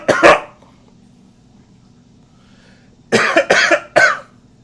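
A single sharp cough near the start is followed, after a quiet pause, by a quick burst of three or four more harsh coughs, close and loud against a low background hum.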